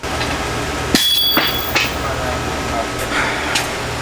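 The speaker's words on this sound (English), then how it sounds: "We ended up using the adapters for the ball joint set, plus a sledgehammer, and we smacked it into place." Sledgehammer blows drive a ball joint into a Toyota Tacoma upper control arm, with a few sharp metallic impacts spaced over a few seconds against steady background noise.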